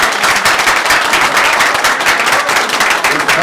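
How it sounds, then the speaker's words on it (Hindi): Loud, dense applause from a large crowd at an election-related gathering, a steady wash of clapping that holds at full strength throughout without pause. "एक दफा पहले जोरदार तालियां होनी चाहिए"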